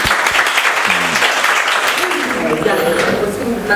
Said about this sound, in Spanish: Otro aplauso para Juan Pablo.